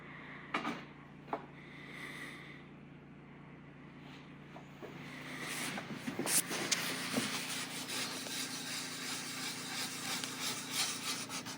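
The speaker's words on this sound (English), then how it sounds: "Dip your rag and start wiping on." Rag wiping white stain onto bare pine boards, a soft repeated rubbing and scuffing close by, with a few sharper knocks of wood partway through.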